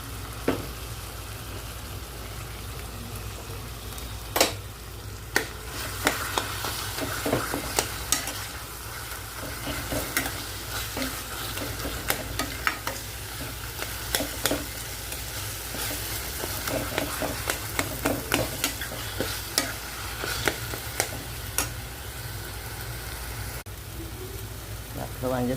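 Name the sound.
stirring tomato and eggplant frying for baingan bharta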